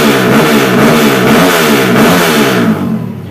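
A Kawasaki KLX motorcycle with a 68 mm bore-up engine revs loud and close, holding a high buzzing pitch that wavers, then eases off toward the end.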